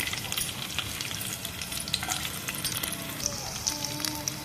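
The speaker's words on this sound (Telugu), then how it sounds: "ఆయిల్ కొంచెం వేడయ్యాక కొంచెం కరివేపాకు వేసేద్దాము అండ్ కొంచెం వెల్లుల్లిపాయలు వేసేద్దాము" Curry leaves and garlic dropped into hot oil for an okra fry, a dense crackling sizzle with bright spitting pops and light stirring, close and steady.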